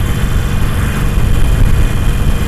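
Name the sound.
Harley-Davidson Iron 883 motorcycle engine at 2800 revs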